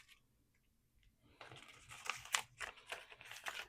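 Scissors cutting through a sticker sheet, with quiet handling at first and then a run of crisp snipping and crinkling paper sounds, close and soft, with no speech.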